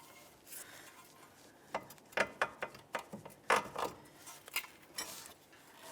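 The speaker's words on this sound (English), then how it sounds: "I'm going to try to pry down on this so I can separate the ball joint from the lower control arm" Metal clicks and sharp knocks from a pry bar levering a ball joint out of the lower control arm on a 1999–2003 Toyota Camry, several irregular close taps and scrapes over a quiet background.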